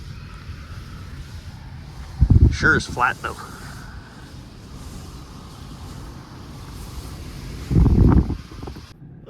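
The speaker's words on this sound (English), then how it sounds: "it's just a little bit windy." Wind buffets a vehicle on a flat prairie highway near Winnipeg. A steady low roar continues throughout, and a voice speaks briefly over it twice.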